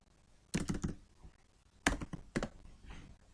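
Computer keyboard keys clicking in a few short bursts of typing, with a firmer single keypress like Enter standing out, close and fairly clear against a quiet room while Python code is being entered.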